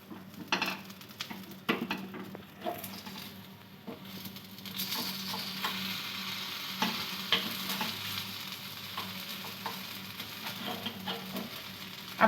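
Rava dahi appe sizzling in an appe pan as they are turned, with steady frying hiss, light scraping and clinks of a utensil against the pan throughout.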